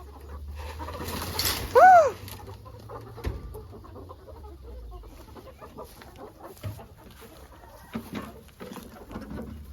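A single loud cluck stands out early in a barn, followed by quieter scattered clucks and shuffling noises in an otherwise calm, soft background.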